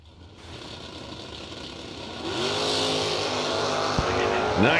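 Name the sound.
drag racing cars launching, Chevrolet Nova wheel stand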